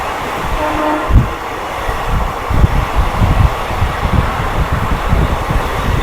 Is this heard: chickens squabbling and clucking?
no